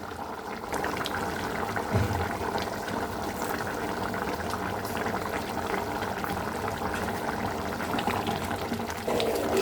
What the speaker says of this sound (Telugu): దోసకాయ ఇంకొద్దిగా ఉడకాలి